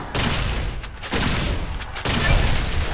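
Loud, close gunshots in the video game Fallout: New Vegas, a few heavy blasts spaced about a second apart over a noisy din, with no talk.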